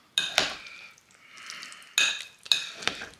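A spoon scrapes and clinks against a bowl while mixing a mayonnaise-dressed salad, in a few sharp bursts, with a softer swishing stir in between, close up and without talk.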